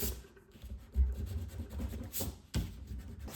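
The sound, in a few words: eraser rubbing off pencil marks on paper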